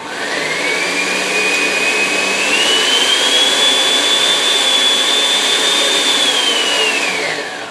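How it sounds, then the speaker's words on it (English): A Dynablend blender runs on high blending salad ingredients, a loud, steady motor whine whose pitch climbs, holds and then drops away near the end. "I like to turn the blender up on slow to start out with"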